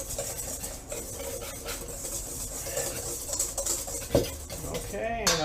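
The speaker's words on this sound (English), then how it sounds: "Now I want to whisk that around real well." A whisk beating ingredients in a bowl for apple pie gives soft, irregular scraping and clinking at moderate level, with a sharper tap of metal near the end and faint background talk.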